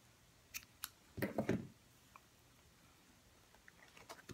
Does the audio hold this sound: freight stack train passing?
no